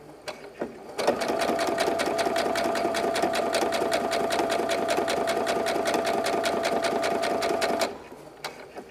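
A sewing machine stitches a tote bag seam in one steady, fast, even run of needle strokes lasting about seven seconds, loud and close, with a few faint clicks before it starts and after it stops.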